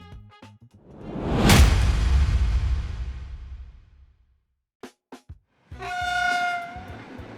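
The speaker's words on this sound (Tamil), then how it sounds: "எர்ணாகுளம் ஸ்டேஷனில் நுழைந்து பெருமூச்சு விட்டு ரயில் நின்றபோது" Train pulling into Ernakulam station in Kerala: a loud rushing rumble swells and holds for several seconds, then fades into a few sharp clunks before a steady hiss of releasing brakes rises as it comes to rest.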